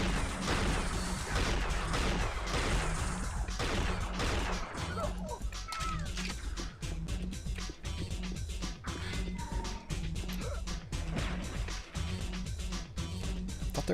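Gunfire in the PC game Unreal Tournament during a deathmatch, with dense, loud bursts of shots and crashing impacts throughout, layered with game music.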